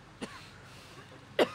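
A single cough from someone speaking loudly at a protest before the French National Assembly, a faint short burst near the start followed by a louder, harsher cough near the end, with quiet room tone between.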